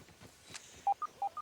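Short electronic phone notification tones from a video game, Grounded, a rapid series of four or five beeps close and clear after some quieter background sounds.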